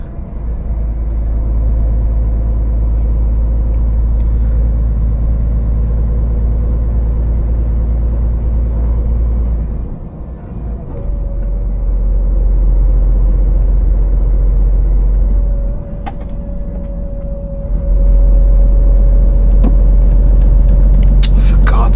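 A heavy vehicle engine near Calais laboring as gears change, a deep loud rumble that dips and surges several times, with a rising whine later as the revs climb, while people talk over it.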